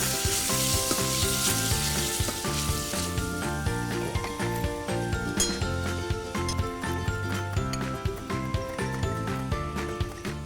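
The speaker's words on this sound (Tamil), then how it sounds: "இப்போ வந்து கொஞ்சம் பூண்டை ரசத்தாளிப்போட போட்டிருக்காங்க" Garlic frying in hot oil for a rasam tempering, a dense continuous sizzle with metal pans and utensils clinking and stirring throughout, close and steady with no talking.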